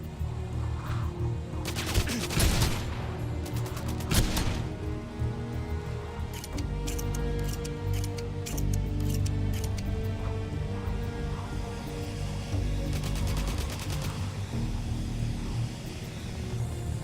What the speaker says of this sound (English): Who's that firing?